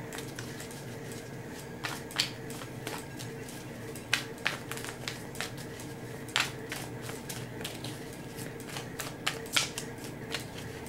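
Tarot cards being shuffled in a run of soft, papery riffles and flicks, repeated irregularly over a low steady background hum, close and moderately quiet with no talking.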